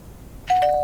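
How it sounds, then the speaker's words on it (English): A doorbell in the video game Lake chimes once, a clear bright electronic tone that starts abruptly after a brief quiet moment and rings steadily, with no talking. "Doorbell."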